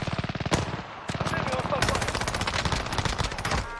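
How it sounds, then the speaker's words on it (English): Heavy automatic gunfire from the Call of Duty: Warzone video game, dense rapid bursts rattling almost continuously with a brief gap, loud and close, with speech mixed underneath. "Under heavy fire here!"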